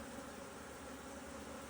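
A dense, steady buzz of many honeybees in an open hive, with caregiver bees on the comb, holding an even drone with no pauses and no voices over it.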